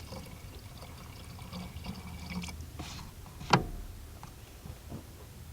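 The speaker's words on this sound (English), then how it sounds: "the coolant was a little bit low, so I'm just going to top that up while I'm under here" Coolant poured into a van engine, a faint, steady trickle of liquid with soft gurgles and one sharper clunk midway, quiet and close with no talk.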